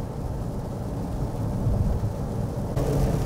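Steady rain drumming on a car while driving near South Pasadena toward a freeway entrance, a dense continuous low rumble and hiss throughout, slightly louder in the second half.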